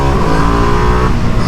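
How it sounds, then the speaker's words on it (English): Ducati Multistrada V2 motorcycle engine accelerating hard, a loud close-up gruff roar with a steady rumbling drone throughout. "it still honks like a proper Ducati engine"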